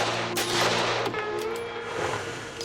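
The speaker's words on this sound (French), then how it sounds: "Je tire dans 3, 2, 1." A gunshot fired at a revolver held by a dummy in a hostage-disarming test, heard as sharp broadband cracks with a few quick follow-up bangs over a steady low mechanical hum, fairly loud and without speech.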